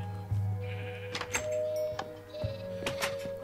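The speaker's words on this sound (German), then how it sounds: "Ein braunes Kakaoschaf." Minecraft sheep give several short bleats, close and distinct, amid the PlayStation 4 game's soft ambient tones and a few thunking clicks.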